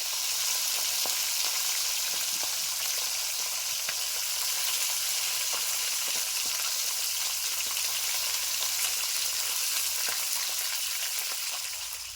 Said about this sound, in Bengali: মাছগুলো ভাজা হচ্ছে